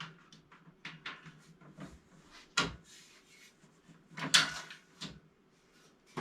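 A drawer on a VEVOR 220 lb capacity workbench sliding open and shut, a few wooden knocks and rubbing scrapes with quiet handling sounds between, close by.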